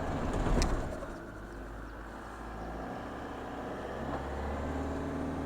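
Pickup truck climbing a dusty slope in two-wheel drive, a steady low engine rumble throughout with a brief louder burst near the start, outdoors and without speech.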